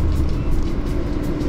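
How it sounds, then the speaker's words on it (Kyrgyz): A car engine gives a loud, close, continuous roar under throttle as the driver presses the gas on a road trip toward Osh, with no talking. "аңылдап эле газ тээп."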